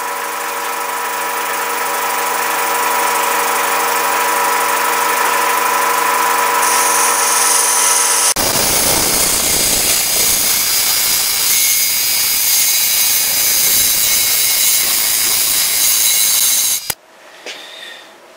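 A wood lathe turns a peppermill at around 1300 RPM, first a loud steady whine, then a rougher, broadband cutting rasp as the tool engages, before stopping abruptly near the end.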